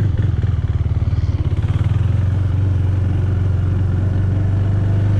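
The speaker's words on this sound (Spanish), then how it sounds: "La moto suena muy bien." A Husqvarna Vitpilen 401 motorcycle engine idles close by, with a loud, steady, throbbing single-cylinder pulse and no talking.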